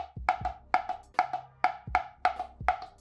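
Snare drum strokes played with sticks, about a dozen sharp, close hits in quick pairs and groups with a ringing tone and short decay, heard alone without talk.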